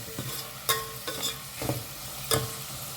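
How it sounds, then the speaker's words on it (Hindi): Roughly chopped tomatoes fry in a pan with a soft continuous sizzle, broken by several sharp spatula taps and scrapes, heard close with no talking. "टमाटर को ना मैंने 1-2 मिनट के लिए अच्छे से भून लिया है"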